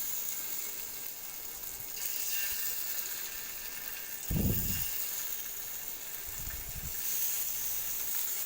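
Sankara fish frying in hot oil in a pan over low heat, a steady soft sizzle and hiss throughout with a couple of brief louder crackles as the fish settles.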